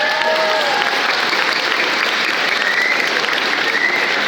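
Audience applause at a speaker event, a dense, even wash of clapping that holds at a constant level for the whole stretch with no talk over it.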